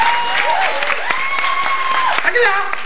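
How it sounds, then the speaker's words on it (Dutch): Audience clapping at a live end-of-show performance in 1997, a dense burst of applause carried under a loud voice speaking over it. "Geef hem ook eens een applaus"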